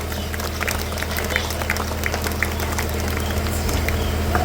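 Congregation applause at a St. Joseph's feast Mass in Rayapeta village church: a dense, steady wash of many hands clapping, sustained throughout with crowd murmur and bustle underneath.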